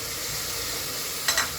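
Onions frying in oil in a pot for beef alughati, a traditional North Bengal dish: a continuous, even sizzle with a brief clatter near the end and no talking.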